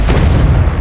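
A Confringo fire spell detonates in Hogwarts Legacy, a loud, deep, booming blast that fills the whole moment and rumbles steadily without a break.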